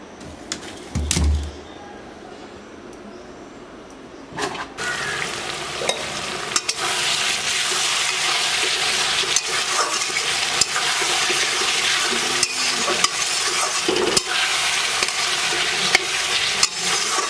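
Curry gravy cooks in a pan with a loud, steady sizzle and occasional stirring scrapes, following a quieter stretch with a few clatters at the start.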